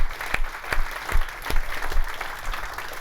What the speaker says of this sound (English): I just want to give them a quick round of applause.